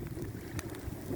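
Strong wind blows across a lakeshore, giving a brief burst of loud, rough buffeting noise against the microphone.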